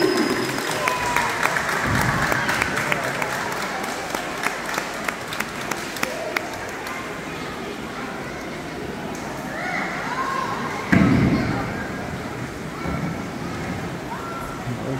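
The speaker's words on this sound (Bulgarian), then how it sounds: "Аплодисменти!" A crowd at a dolphin show bursts into dense, lively clapping that gradually thins into an open-air murmur, with a shorter swell of cheering and clapping later and faint voices throughout.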